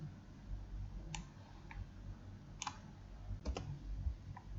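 Sparse mouse clicks at a computer while working in STAAD Pro structural software, a handful of sharp, faint ticks spaced irregularly over a low steady hum.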